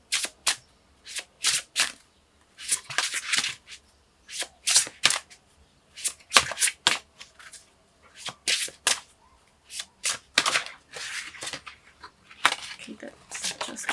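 Slippery tarot cards are shuffled in quick irregular bursts of riffling and slapping, close and fairly quiet, with pauses between handfuls.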